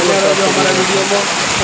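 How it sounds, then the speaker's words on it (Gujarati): Torrential monsoon rain pours down in Surat as a dense, loud, continuous hiss of water, with someone talking over it. "મુસળધાર વરસાદ ચાલુ છે, ફૂલ પાણી પડી રહ્યું છે"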